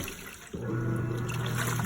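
Giantex portable washing machine washing dirty rugs, water sloshing and churning steadily after a sudden start, with a low motor hum underneath, close and fairly loud.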